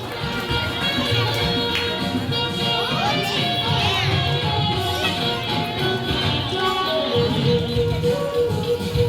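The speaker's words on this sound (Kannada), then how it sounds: "ಚಪ್ಪಾಳೆ ಮೂಲಕ ಅವರಿಗೆ ಅಭಿನಂದನೆಯನ್ನ ಸಲ್ಲಿಸೋಣ" A large crowd of teachers and guests at an award ceremony keeps up sustained applause mixed with cheers and children's shouts, dense and steady throughout with voices woven in.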